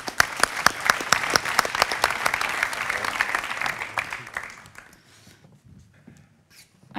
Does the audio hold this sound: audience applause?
yes